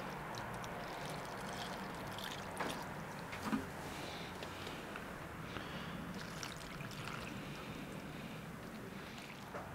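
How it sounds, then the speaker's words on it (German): A mustard-pepper liquid mixture poured over layered filet in a Dutch oven, heard as a soft, close trickle and splash that continues steadily with a few small gurgles and bumps, no voices. "Wenn das dann vermischt ist, können wir das final noch hier drüber gießen."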